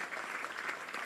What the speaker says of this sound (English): Would you please give a round of applause to Anthony Dono